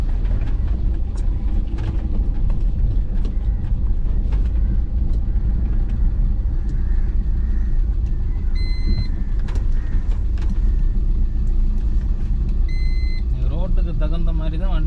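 A car drives along a village road in second gear after a downshift on a dip, its steady engine and road rumble continuous throughout, with brief beeps and other vehicle noises in the background.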